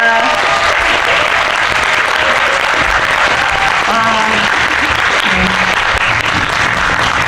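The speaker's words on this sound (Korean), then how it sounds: "여러분들 큰 박수 부탁드립니다." Loud, sustained applause from a large audience in a cinema theater at a film event, dense and steady clapping filling the whole stretch.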